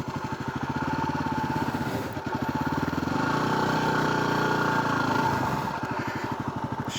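Engine of a new motorcycle running with a steady, throbbing mid-pitched drone that rises briefly as it is revved and ridden slowly, loud and close with no talking.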